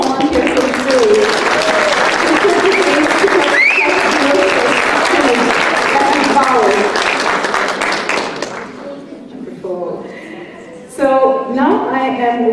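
An audience at an International Women's Day panel dinner applauds volunteers with a loud, dense burst of clapping under background music and voices, fading after eight seconds before a person speaks over scattered sounds.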